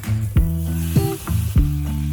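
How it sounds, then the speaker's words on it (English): Potatoes frying in clarified butter in a pan, with a loud, close, continuous sizzle and a few sharp scraping strokes at roughly half-second intervals. "Add some of the leftover clarified butter to the pan and cook the potatoes."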